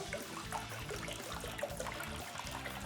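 Mushroom stock pours into a small saucepan, a steady close liquid trickle and splash running throughout without talk.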